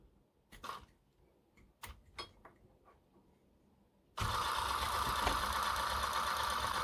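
Small electric motor of a Tamiya MAN TGX 26.540 XLX 6x4 RC truck running in 2nd gear on 2 volts, a steady loud whirring drone that starts abruptly after a few faint knocks and clicks and then holds evenly.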